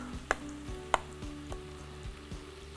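Eggplant is stirred in an open bowl, producing soft, repeated scraping knocks at a loose, steady pace, with a couple of sharper clacks near the start.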